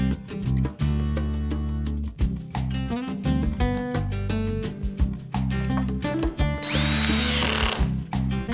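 A power drill driving bolts into a playground set during assembly, loud whirring bursts that start and stop repeatedly with pitch changes as the bolts tighten, up close, with no talking.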